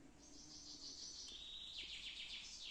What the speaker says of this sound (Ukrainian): Душновато в лісі, пташки співають